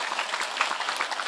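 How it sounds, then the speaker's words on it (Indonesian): A brief burst of dense crowd applause at a religious gathering, many hands clapping together in a thick, even wash for the residents of Buaran. "Tepuk tangan kanggo warga Buaran."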